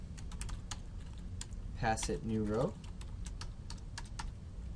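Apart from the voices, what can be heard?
typing on a computer keyboard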